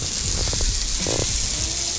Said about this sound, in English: as soon as they hit the griddle, they're gonna start to sizzle